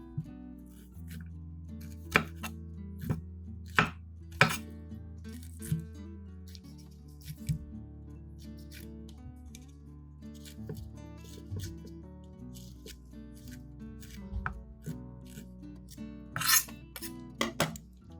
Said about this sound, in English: peel off the skin and remove the pineapple eyes from each piece